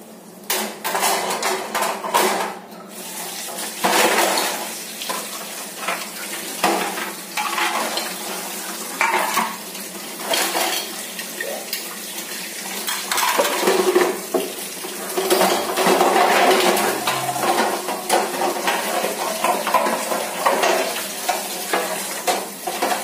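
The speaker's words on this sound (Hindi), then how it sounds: "तो यहाँ पे बर्तन साफ़ कर लूँगी मैं फटाफट से।" Dishes, pots and utensils being washed by hand at a home sink, with steady running water and repeated clatter and scraping of metal and ceramic, close and fairly loud, without talk.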